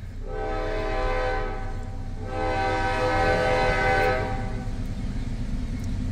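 A CSX southbound freight train on the Newcastle sub sounds two long, loud horn blasts over a steady rumble of rolling cars, the second blast a little louder and ending around four seconds in while the rumble carries on.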